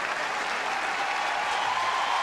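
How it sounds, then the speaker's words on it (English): Standing ovation for tennis players at a tournament in Washington: steady, dense crowd applause, even and sustained throughout with no break. "A brilliant forehand return and a standing ovation for both players here in Washington"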